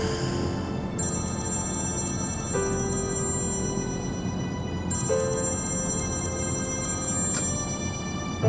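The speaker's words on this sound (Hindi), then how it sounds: "मत उठाओ मेरा फोन" A phone rings repeatedly with bright electronic tones in regular bursts, steady and moderately loud, with no voices.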